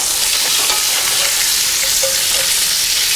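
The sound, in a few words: bacon frying and being stirred in a pan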